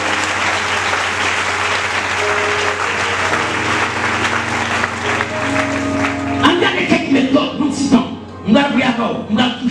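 Congregation applauding in acclaim of the Holy Spirit during a worship service, dense sustained clapping under a steady tone, thinning into scattered louder claps and voices near the end.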